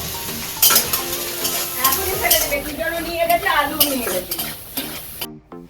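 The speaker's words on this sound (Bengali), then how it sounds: "সিদ্ধ করা ছোলাটা তেলের মধ্যে দিয়ে কিছুক্ষণ ভেজে নেবে" Boiled chickpeas fry in hot oil in a pan with turmeric and salt, giving a steady close sizzle broken by frequent clattering scrapes of a spatula stirring against the pan, ending abruptly.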